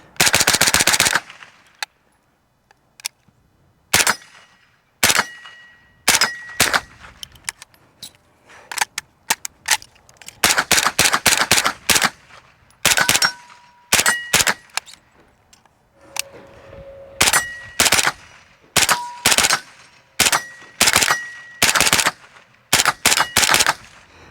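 Rifle fitted with a Delta-tek muzzle device firing outdoors: sharp, loud shots in irregular rapid bursts and single cracks, with short silent gaps between strings of fire.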